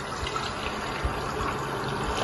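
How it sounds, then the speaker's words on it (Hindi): Water is poured into a heated pressure cooker with a steady, soft rushing splash that holds constant and fairly quiet from start to finish. "हमने कुकर गरम रखा है और उसमें मैं डाल रही हूँ पानी"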